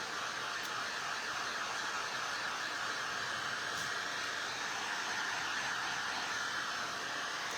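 A hair dryer blasts air over cinnamon-coated craft candy corn, giving a loud, steady, close-up whoosh that runs without a break, with no voices over it.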